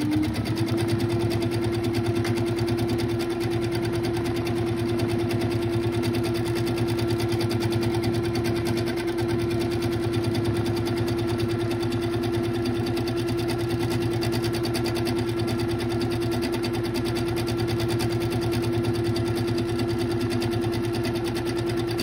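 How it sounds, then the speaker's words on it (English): A sewing machine runs continuously during free motion quilting of swirls, holding a steady, even motor hum and rapid needle chatter for over twenty seconds without any talking. "So watch me go ahead and stitch that out."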